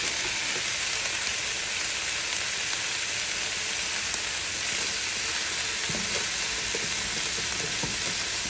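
Chopped onion frying in a hot pan with roast beef nearby, a loud, steady sizzle and crackle that runs continuously without any talking.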